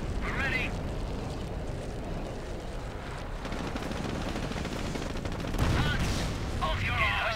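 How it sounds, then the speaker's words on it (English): Mortar team fire in Company of Heroes, a British mission battle scene, with dense rumbling blasts and crackling gunfire, louder bursts near the start and toward the end, under a talking voice. "something's shooting at me. I guess there's a mortar team"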